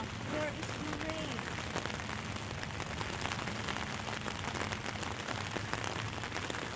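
Steady rain patters across the body of a car in a continuous, even hiss of close, dense drops, with a faint voice briefly audible near the start.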